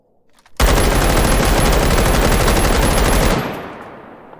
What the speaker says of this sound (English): We could have a compensator that will do literally the exact same thing as a suppressor, but allows you to keep that really nice, loud sound